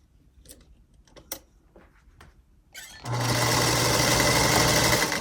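A sewing machine stitches fabric pieces into a tube for a patchwork Scottie dog: after a few soft handling clicks and taps, a steady, loud mechanical whir with rapid ticking runs unbroken for about two seconds.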